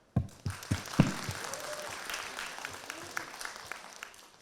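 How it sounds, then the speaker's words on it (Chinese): Audience applause fills a conference hall at ComfyCon Shanghai 2025, opening with a few sharp individual claps that swell into sustained, fairly even clapping from a crowd, moderately distant. "大家请鼓掌。"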